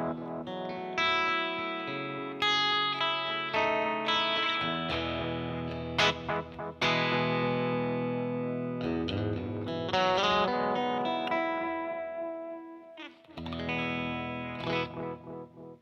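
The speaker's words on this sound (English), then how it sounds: "Let me turn that mix up so you can really hear it." Electric guitar runs through a Mythos Oracle analog echo pedal with the mix turned up, so loud strummed chords and single notes trail off in thick repeating echoes, played alone with no talking.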